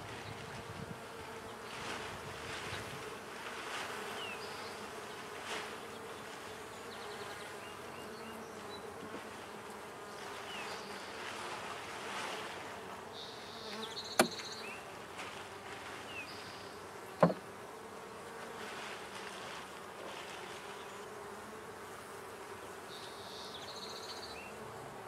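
Honeybees hum steadily around an open hive under inspection, a dense continuous buzz close by that fills the whole stretch, with a couple of sharp knocks partway through and no talking.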